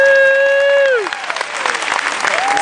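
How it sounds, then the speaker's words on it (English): At a magic show aboard the Ruby Princess cruise ship, a sliding whistle-like tone ends and gives way to light, scattered audience clapping with some voices mixed in. "And they'll clap for you."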